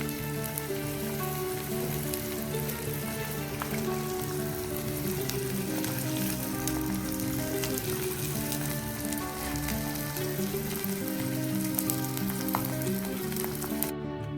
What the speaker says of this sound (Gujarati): જોઈ લો આ રીતે ગુંદ બધો આપણે તળી લેવાનો છે